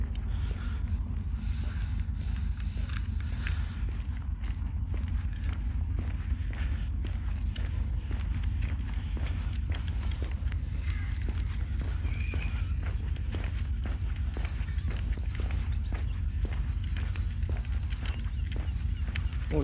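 Recorded swift calls play from a loudspeaker on a swift tower near Cardiff Bay, thin high screeching trills repeating in bursts over a steady low outdoor rumble, moderately faint at a distance.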